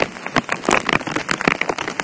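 Steady rain pours outdoors, a dense patter of drops striking a surface with irregular louder splashes, close and continuous with no talking.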